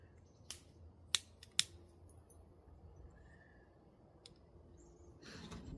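Scissors snip a few times close by, with sharp crisp cuts, two of them in quick succession, over a faint steady background hiss.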